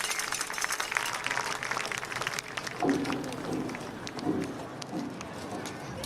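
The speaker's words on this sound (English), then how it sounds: "Round of applause for our" Crowd at a high school football game applauding senior athletes on the field, a broad steady wash of clapping and cheering heard from a distance, with a few louder swells midway and a voice briefly audible over it.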